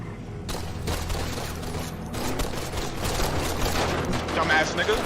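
Gunshots fired out the passenger side window of a car during a GTA roleplay shootout, a dense crackling burst of shots over engine and street noise, with voices talking over it.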